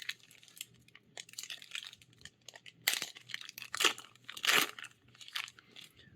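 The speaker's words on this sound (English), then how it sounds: "Today we're cracking open March of the Machine." A March of the Machine Magic: The Gathering booster pack is torn open, with crinkly foil crunching and ripping in several bursts, the loudest near the end, close up with no talk.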